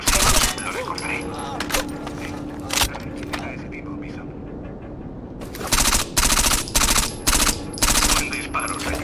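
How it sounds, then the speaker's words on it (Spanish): Gunfire in the video game Rainbow Six Vegas 2, a burst of loud, sharp shots near the start, then a later cluster of rapid repeated shots, heard under background game ambience and voices. "Un disparo, señor."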